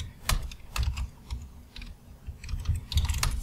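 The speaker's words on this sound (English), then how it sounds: "Type a password for Chris." Password keystrokes on a computer keyboard during a Hyper-V Server 2012 core installation, a quick uneven run of close, crisp clicks with brief pauses, over a low steady hum.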